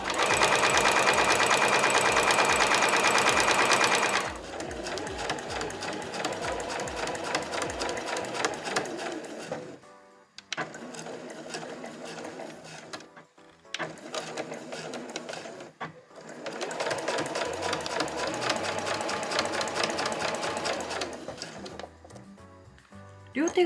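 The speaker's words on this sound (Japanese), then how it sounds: "そしたら同じようにして花柄の方も縫っていきます。" Sewing machine stitching floral-print fabric for a tissue pouch, running in loud, rapid mechanical bursts separated by short pauses, with a brief stretch of a voice speaking at the start.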